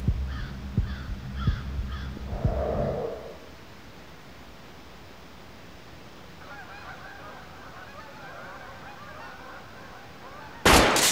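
Several goose honks and calls in a bird hunting video game, a burst of repeated honking in the first seconds followed by quieter, distant calling and a sudden loud thump at the end.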